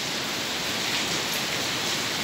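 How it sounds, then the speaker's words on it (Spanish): Heavy rain pours down during a carp fishing trip, a dense, loud, continuous hiss of drops with no pauses and no voices. "como lo vengo diciendo, llueve, que es impresionante"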